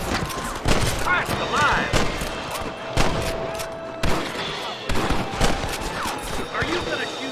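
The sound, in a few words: gunfight with rustlers in Red Dead Redemption video game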